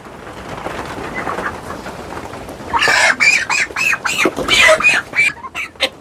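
Broiler chickens about 34 days old on a poultry farm, a close burst of loud, repeated squawking and clucking that follows a stretch of quieter background noise.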